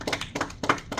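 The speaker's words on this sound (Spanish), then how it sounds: "Dale un aplauso." Brief clapping at a church Bible study, a few loose hand claps in quick uneven succession, close and moderately loud, lasting only about a second.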